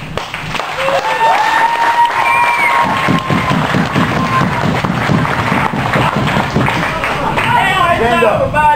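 Crowd at a wrestling event applauding and cheering after a match, a loud, continuous roar of clapping and shouting with voices talking over it throughout.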